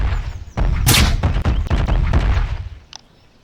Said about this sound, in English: And heck, this even applies to the sniper rifle.